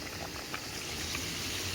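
Dal (lentils) boiling in a pot, a steady soft bubbling hiss with faint continuous simmering, heard alone and fairly quiet.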